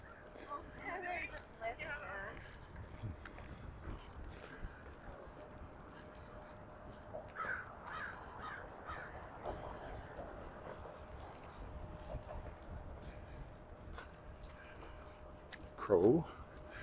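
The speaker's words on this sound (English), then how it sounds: "Crow." A crow caws once, loud and harsh, near the end of a long quiet stretch of outdoor lakeside ambience at Wascana Lake in Regina, with some talking earlier on.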